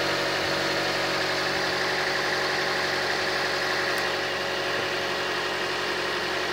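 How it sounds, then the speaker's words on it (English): A Toyota engine idles steadily and evenly nearby, a continuous mid-pitched hum with a light mechanical chatter. "So now I'm going to check the running of the motor."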